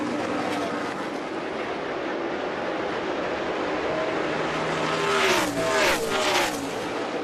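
NASCAR race cars roar around the track during a Sprint Cup championship race, a dense loud engine drone with cars passing and pitch shifting, and no talk.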